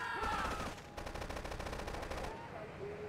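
Automatic gunfire in Grand Theft Auto III Definitive Edition: a rapid, even burst of shots lasting over a second, set among other game sounds.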